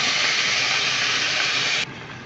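A loud, steady hiss from a pan of rice noodles with soy sauce boiling hard, dropping suddenly to a softer hiss near the end.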